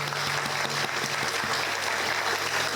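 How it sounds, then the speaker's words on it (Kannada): At a dance school's annual day performance, the audience claps in a continuous, even wash of applause, many hands together at a fairly soft distance, with a few sharper claps standing out. "ಅವ್ರಿಗೆಲ್ರಿಗೂ ಒಂದು ದೊಡ್ಡ ಚಪ್ಪಾಳೆ."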